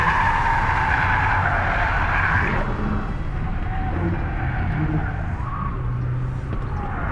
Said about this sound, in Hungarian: Miért elúszott a feneke?